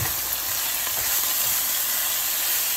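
Pork belly being stirred in a sizzling pot for Vietnamese braised pork, a steady close frying hiss throughout with faint scraping of the stirring.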